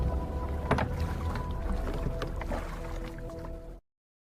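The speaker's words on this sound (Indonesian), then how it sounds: "Careful with your oars." Rowing boat oars working through the sea during the Titanic rescue, steady sloshing and splashing water noise that runs continuously and then cuts off abruptly.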